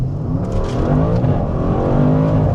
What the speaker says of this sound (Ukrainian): І зараз я нажму газ в пол.